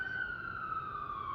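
An emergency siren outside wails as a steady sustained tone that slowly falls in pitch, fairly loud and continuous with no talking over it.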